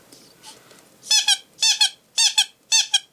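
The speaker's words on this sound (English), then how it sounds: "This is actually a squeaky toy." A squeaky dog toy squeezed repeatedly, giving four loud close double squeaks in an even rhythm after a couple of softer squeaks.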